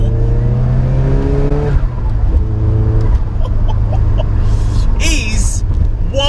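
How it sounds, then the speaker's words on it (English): A 1980s Ford Sierra Cosworth engine runs and revs from inside the car, a loud steady rumble with rising engine tones, while someone talks over it. "Now this is prime Sierra Cosworth."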